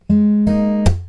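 Acoustic guitar in a riff: a thumb-plucked bass note, finger-picked strings, then a sharp percussive slap, three close loud strikes ringing within about a second.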